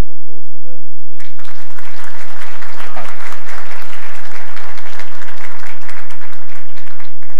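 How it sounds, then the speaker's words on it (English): Loud, sustained applause from a conference audience at an Open Group cloud computing event, starting abruptly after a second of a speaker's voice and filling the rest of the stretch with dense, even clapping. "round of applause for Bernard, please"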